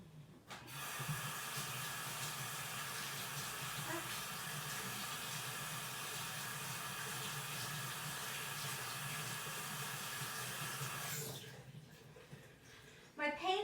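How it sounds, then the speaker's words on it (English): Running tap water while washing hands, a steady hiss of flowing water lasting about ten seconds, then cutting off, with faint handling noises afterward. "let me wash my hands real quick"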